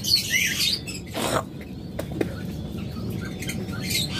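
Small pet birds chirping and twittering close by in a breeding cage, with a brief flutter of wings and faint rustling, calls coming in short bursts.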